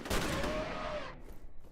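A shotgun blast in the F.E.A.R. shooter video game, a single loud boom whose rumbling tail fades out over about a second, with no talk.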